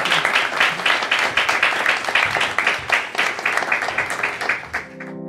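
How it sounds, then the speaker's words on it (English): An audience at an Assyrian entrepreneurship lecture gives a sustained round of applause, many hands clapping in a dense, even wash that fades out at the end. "So please, let's give her a big round of applause."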